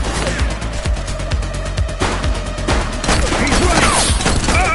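Rapid gunfire bursts crackle in the police game The Precinct, a dense, loud run of shots layered with crashes and clatter, no voices over it.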